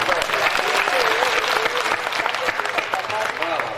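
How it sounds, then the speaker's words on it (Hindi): A comedy show audience bursts into dense, sustained applause, a continuous wash of many hands clapping at once, loud and even throughout, with faint voices mixed underneath. "एक बार आप अपने खुद के सम्मान में एक बार तालियां बजाइए।"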